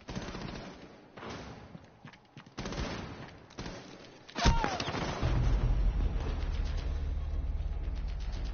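Gunfire erupts in a VR shooter game, with scattered shots giving way to a sharp crack and then sustained rapid automatic fire. Game sounds sit underneath.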